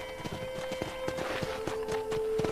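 Quick, regular hoof clops of a horse walking in the video game Red Dead Redemption, crisp and close, with a faint steady tone and light ambient noise behind.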